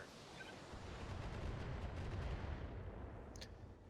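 Mech weapons in a video game fire at a dragon and a vehicle, a faint continuous rumble of booming, artillery-like blasts swelling and fading, with a brief high metallic ping near the end.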